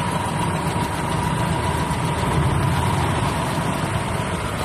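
A Suzuki F6 engine, just overhauled after heavy smoke and damaged piston and liner, runs at a steady idle with a constant loud mechanical drone close by and no talk.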